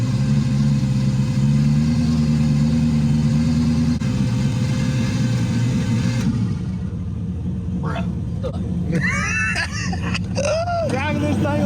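A turbocharged muscle car rumbles with a low, steady engine drone from inside the cabin, shifting partway through as the tone drops, while people talk over the engine noise near the end.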